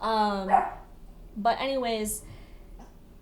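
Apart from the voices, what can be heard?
dog barking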